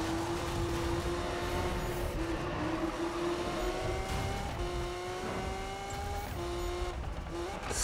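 A car drifts in the racing game Need for Speed (2015), engine whining as revs climb, with long tire squeals sliding through the corners at a moderate, steady level.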